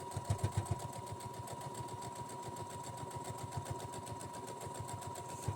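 A sewing machine stitches quilt strips with a fast, even run of needle thumps over a steady motor whine, close and moderately quiet, continuous with no talking.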